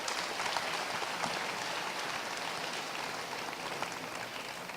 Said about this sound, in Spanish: ¿Qué tal si le damos un aplauso bien fuerte al Señor?